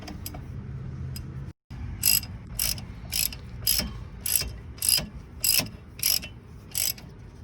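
A ratchet tightens a wheel hub bolt on a 2002 GMC Yukon, giving about ten evenly spaced, crisp clicking strokes close to the microphone after a brief pause, with no speech.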